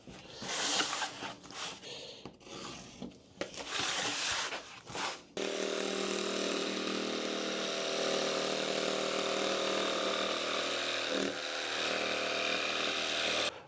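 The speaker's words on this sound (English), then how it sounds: "I can cut them off with a jigsaw" A jigsaw cuts off the corners of a wall panel for a camper conversion, first in short buzzing bursts and then in a sustained, steady rasping cut up close.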